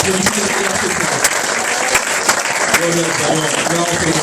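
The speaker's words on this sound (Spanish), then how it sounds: "Denle un aplauso a Jesús en esta noche." A Pentecostal congregation at an evening service applauds loudly and continuously, a dense wash of clapping with a few louder individual claps, while voices and a speaker can be heard beneath it.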